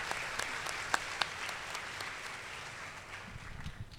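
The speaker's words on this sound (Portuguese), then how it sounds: "palmas para ela" Applause rises for a guest who has come from Porto Alegre, a soft, fairly distant patter of many hands with a few sharper individual claps standing out, continuing evenly and fading slightly toward the end.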